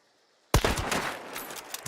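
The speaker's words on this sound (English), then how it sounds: "there's a headshot kill" A gunshot rings out abruptly after near silence in Hunt: Showdown, a sharp, loud, close crack followed by a rolling echoing tail, with a faint second shot near the end.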